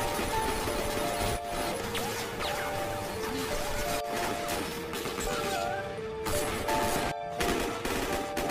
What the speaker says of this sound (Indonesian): Tokyo dengan gagah berani melawan balik dengan senapan mesin